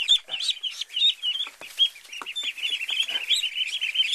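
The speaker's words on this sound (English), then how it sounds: "these are the wild ones, the blue Swedish ducks" Blue Swedish ducklings peeping in a busy, continuous chorus of high, thin calls, close and fairly soft, with occasional rustling in between.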